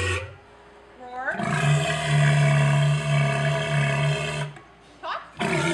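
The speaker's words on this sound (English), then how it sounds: "walruses make all sorts of different kinds of sounds" A deep, sustained animal roar with strong harmonic bellowing, loud and close, rising in the middle and fading, followed by a short grunting call.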